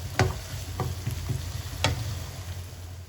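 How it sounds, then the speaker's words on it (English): Onions and ginger garlic paste fry in a pan with a soft, steady sizzle, broken by a few sharp crackles and stirring taps, close and fairly quiet. "Add in your ginger garlic paste. Okay, as usual, fry until the raw smell disappears."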